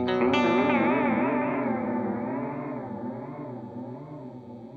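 An electric guitar runs through an analog delay pedal with modulation, a sustained chord warbling and wavering in pitch as the repeats ring out and slowly fade.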